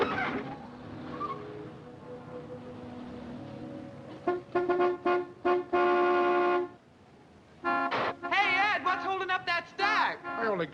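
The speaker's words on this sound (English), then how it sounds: "Some horn-happy creep just pulled in. Let him honk." Car horn honking outside, repeated blasts in uneven bursts, some long and held, some short, fairly loud over steady room hum and background noise.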